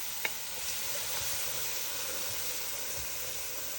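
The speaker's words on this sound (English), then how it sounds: "Now we're gonna start adding our vegetables." Onions, green onions and other vegetables sizzling in a butter and flour roux for Louisiana-style shrimp creole, a steady bright hiss with a brief clink near the start, close and without talk.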